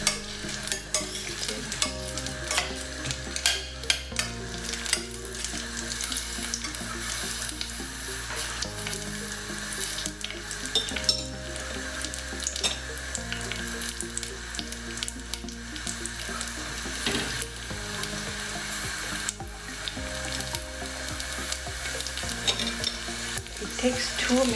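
Onion and two garlic cloves frying in a pan for tomato soup, a steady close sizzle with repeated scraping stirs at a loose, uneven rhythm throughout.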